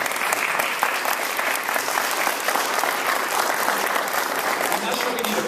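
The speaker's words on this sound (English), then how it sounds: "I'm not sure we need applause" Audience applause for board members standing at a brunch event with candidates: a dense, steady wash of many hands clapping, loud and continuous throughout, with no pauses.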